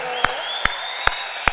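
Applause from the audience at a live Hindi comedy show, a steady wash of crowd noise punctuated by four evenly spaced sharp claps.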